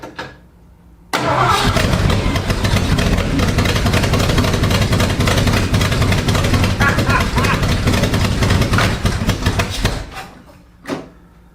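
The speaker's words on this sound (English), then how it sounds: "It fired to life first crank of the key." A Ford 289 V8 in a Sunbeam Tiger cranks and roars to life on the first crank, running loud and rough for several seconds before cutting off abruptly.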